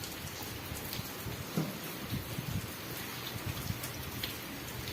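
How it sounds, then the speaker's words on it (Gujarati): Light but steady rain falls in a village, forming a faint continuous hiss with scattered soft drip taps and no voices. "પણ વરસાદ ચાલુ થઈ ગયો પાછો"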